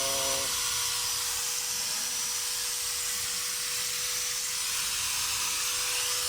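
An electric grinder running during a power test at a newly installed outlet and submeter, a continuous high-pitched whirring whine with a steady hum, constant and close, no speech.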